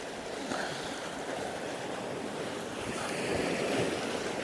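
Sea surf breaking on the shore at night, a steady, fairly faint wash of waves with wind noise blowing across the microphone, continuous and with no voices.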